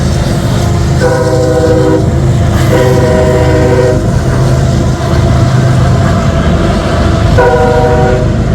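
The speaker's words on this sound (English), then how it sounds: "Saw the train come out of the tunnel, so that was pretty cool" A loud train rumbles past continuously near Harpers Ferry after leaving a tunnel by the Potomac River, its horn sounding in three long blasts spread across the passage.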